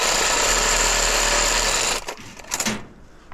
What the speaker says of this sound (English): So run your sawzall down like that and cut all 4 of them.